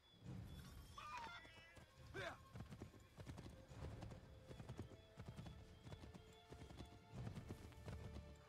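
Horse hooves galloping in Assassin's Creed 3, a steady rhythmic clip-clop running throughout at moderate volume, with a brief whinny early on and game sound mixed in.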